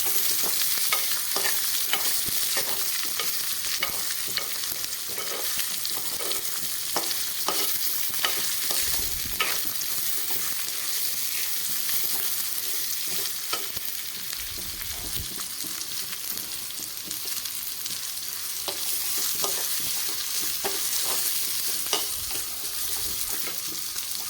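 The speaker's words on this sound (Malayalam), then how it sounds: "അത് ഇതിലേക്ക് ഇട്ട് കൊടുത്ത് നല്ലോണം വഴറ്റി കൊടുക്കുക" Chopped onion and garlic sauté in a pan for an okra curry, with a continuous bright sizzle and frequent scraping stirs throughout.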